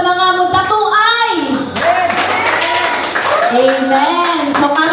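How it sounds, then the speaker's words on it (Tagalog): Clapping from attendees at a church retreat, brisk hand claps rising under loud overlapping voices and cheering that dominate throughout. "Palakpak ug kusog sa mga mutatuay."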